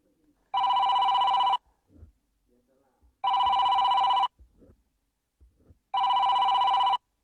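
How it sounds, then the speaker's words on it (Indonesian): A telephone bell rings in three evenly spaced bursts of about a second each, loud and clear, with quiet gaps and faint background noise between rings. "Wah, Mas Kori ada telepon nih."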